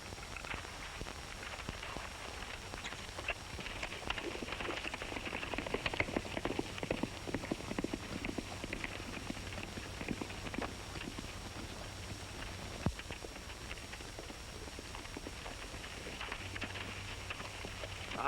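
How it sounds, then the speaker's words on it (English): Horse hooves clip-clop at a steady walking pace on an outdoor ranch setting from the 1930s, mid-distance and moderately loud, continuing for the whole stretch with a light background hiss and no talk. "Say, Stoney, how about using your horse?"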